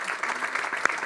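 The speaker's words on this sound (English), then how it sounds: "A big round of applause." A brief burst of conference audience applause after a panel discussion, a close dense patter of clapping lasting about a second.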